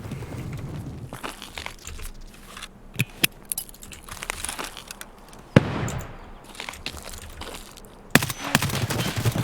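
Gunfire and a flashbang in the video game Escape From Tarkov: sharp bursts of automatic fire and loud single bangs crack out irregularly over a busy, noisy background, with no talking.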